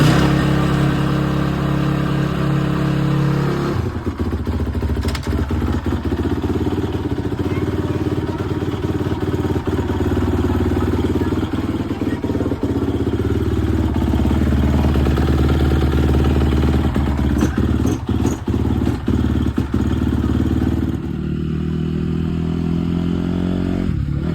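A Honda CRF 250 dirt bike engine runs loud and close after its ignition is refitted, a steady rough drone with rev changes and clattering mechanical noise throughout.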